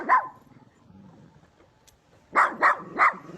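A dog barks once, then after a quiet pause lets out three quick barks in a row, fairly close and clear, with faint low rumbling between.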